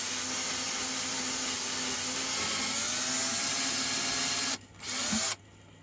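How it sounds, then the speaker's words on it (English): A power drill bores a hole through the side of a resin 3D printer enclosure for an Elegoo Mars Pro, a steady close whine running several seconds before cutting off briefly, then a short final burst and a stop. "this is to drill a hole in the side for the wire"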